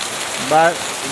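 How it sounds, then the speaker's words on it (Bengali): Heavy rain pours as a dense, steady hiss close by, and a brief voice sounds over it partway through. "এত বৃষ্টি, এত পরিমাণ বৃষ্টি দেখেন"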